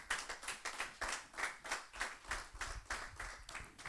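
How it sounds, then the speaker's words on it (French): Church congregation applauding to acclaim Christ during a sermon, with steady rhythmic clapping in regular bursts, fairly faint and slightly distant, and no talking. "Est-ce qu'on peut acclamer Christ?"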